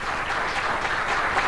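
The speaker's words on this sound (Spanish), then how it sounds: "El aplauso de la sala" Audience applause fills a cultural centre hall at a political visit, a steady dense wash of many hands clapping without a break.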